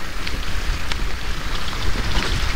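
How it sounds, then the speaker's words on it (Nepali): Rain falls steadily during a ride on a muddy, slippery track, a dense broadband patter mixed with low rumble and wind, loud and constant throughout with no voices. "ओभर पानी पर्दैछ फेरि हो"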